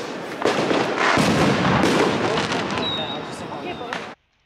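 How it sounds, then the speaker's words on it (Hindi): Fireworks and firecrackers going off during Swiss National Day celebrations in Interlaken, a dense rolling series of pops, bangs and crackles at close to mid distance, with a whistling streak near the end and voices mixed in. "ये पटाखों की जो फ्रीक्वेंसी है, फायरवर्क की जो फ्रीक्वेंसी है वो बढ़ती ही जा रही थी।"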